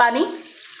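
Half a cup of water poured into frying masala of turmeric and ground coriander in a pan for egg kofta curry, giving a short loud hiss and sizzle that quickly fades to a soft simmer.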